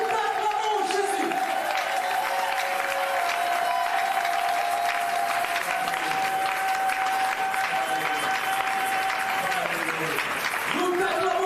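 A church congregation applauds and cheers for Jesus during worship at a pastor's service, continuous clapping and crowd noise running throughout beneath voices calling out.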